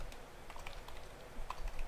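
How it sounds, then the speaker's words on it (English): Keys tapped on a computer keyboard while entering a spreadsheet matrix formula, a light run of close, quick clicks with a few firmer presses, no talking. "start typing, and then type this in, and then go Control Shift Enter"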